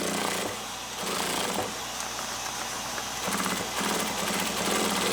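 Sewing machine stitching through a thick seam on an SDL backpack, a steady close mechanical rattling hum that keeps running with slight changes in pace, alone without talk.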